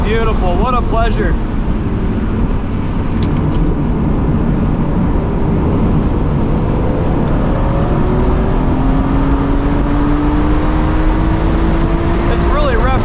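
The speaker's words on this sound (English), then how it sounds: "This really revs out high." A 2006 BMW Z4 M Roadster on RE71RS tires revs its engine up high, the rising pitch sweeping steadily upward over constant road and wind roar, with people talking inside the car.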